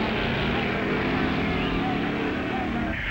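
An A Gasser drag racing car nicknamed Grandma roars past in 1958, a loud, dense engine blare sustained through the moment with a slight shift as it goes by.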